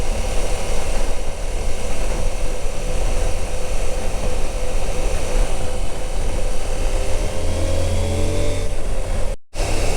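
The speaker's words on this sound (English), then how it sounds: "I'm liking the bike going through the twisties." CF Moto 800MT motorcycle with a quick shifter riding through twisty roads, a loud continuous engine drone mixed with heavy wind rush, speed holding fairly steady before a sudden brief cutout at the end.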